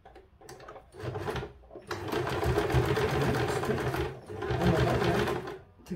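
A sewing machine stitches a skirt waistband, its motor whirring in steady close bursts of rapid needle rattle separated by short pauses.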